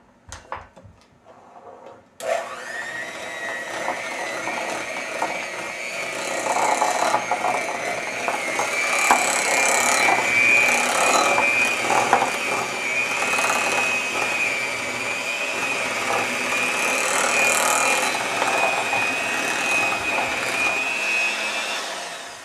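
An electric mixer beats butter for devil's food cake batter, starting after a few clicks and then running as a loud, steady whir with faint rattling for about twenty seconds.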